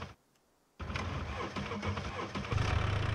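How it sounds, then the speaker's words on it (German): A car engine in the survival game Scum catches after a near-silent pause and settles into a steady, loud mechanical running sound, swelling slightly near the end. "Zumindest wenn der Motor anspringt."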